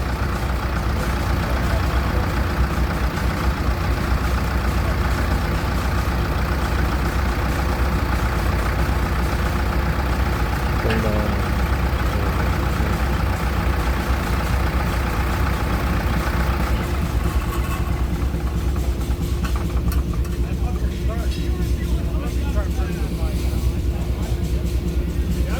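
A Case 400 gas tractor engine of about 45 hp runs steadily under load on a dynamometer, a continuous mid-pitched drone with a constant hum.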